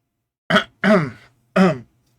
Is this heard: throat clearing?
yes